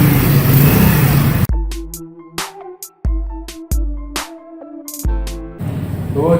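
A newly bought United motorcycle in Sahiwal, Punjab, Pakistan revs loudly and up close at the start and end. Between the revs, a stretch of sharp, ringing tonal hits breaks in.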